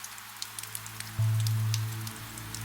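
Light rain falls steadily on a highway at night while a car drives along, a soft continuous patter with scattered drops over a low, loud engine and road hum that swells partway through.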